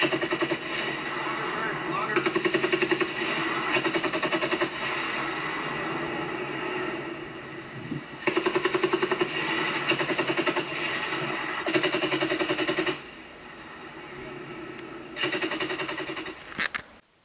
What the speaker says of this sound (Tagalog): Actual machine gun firing between the US troops and the Philippine troops.